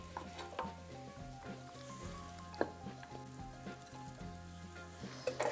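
Apple pieces for French toast fry in a pan with a soft, even sizzle, fairly quiet and close, broken by a few light clinks and taps near the end.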